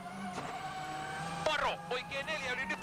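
Latvala's rally car takes a left corner on the Acropolis Rally, its engine revving and swelling through the turn in a brief pass while a commentator speaks over it.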